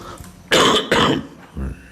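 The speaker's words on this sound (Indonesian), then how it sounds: "Batuk ni." During a religious lecture, a man gives two sharp, loud coughs in quick succession, followed by a softer third cough about half a second later.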